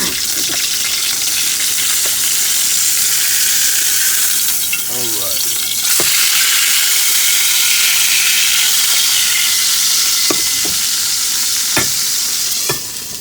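A bigeye ahi tuna steak sears in a stainless steel pan with a loud, steady sizzle throughout, plus a few sharp clicks and a brief voice in the middle.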